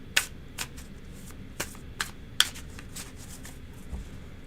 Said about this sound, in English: shuffle those and take one from the top and bottom when you're done